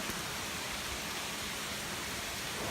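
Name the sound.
hail falling outside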